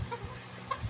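Two soft, brief clucks from a chicken, faint and close together against a quiet background.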